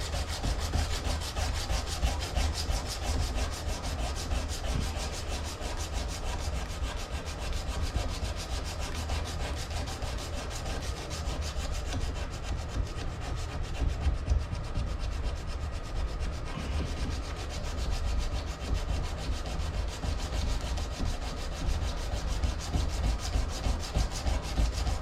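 Steady, continuous sanding of wood, a dense unbroken rasping scrape held at close range for the whole stretch with no talking over it.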